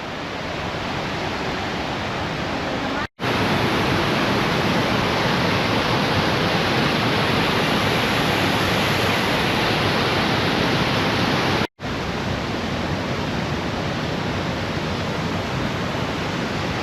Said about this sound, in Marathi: आता आला आपला काळ मांडवी वॉटरफॉल किंवा धबधबा